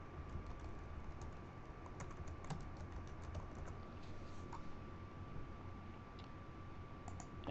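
Computer keyboard typing during GIS software work, a steady run of quick light key clicks, close and quiet, with no talk.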